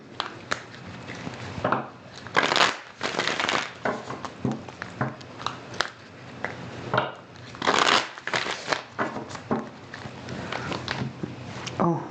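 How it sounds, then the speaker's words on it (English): Bursts of riffling, crackling card shuffles come in irregular clusters, fairly close, with quieter handling noise between them. "Let me give it another shuffle just because."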